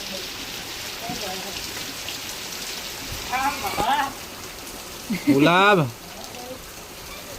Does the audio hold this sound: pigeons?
no